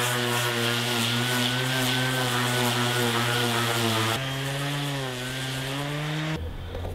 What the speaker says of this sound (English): So I'm going to get 50 grit sandpaper now and see how we get.